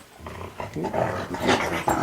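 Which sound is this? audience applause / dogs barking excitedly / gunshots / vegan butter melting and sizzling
dogs barking excitedly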